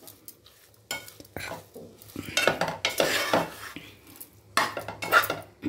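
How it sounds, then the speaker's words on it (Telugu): Amaranth greens being stirred with goat meat in a pan, a spoon scraping and clinking against metal in uneven strokes over a faint sizzle, close by and fairly loud, with no talking. "మనం కొంచెం కలిపేస్తే మెత్తగా అయిపోతుంది ఫ్రెండ్స్."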